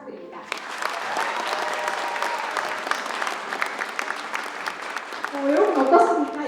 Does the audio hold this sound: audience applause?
yes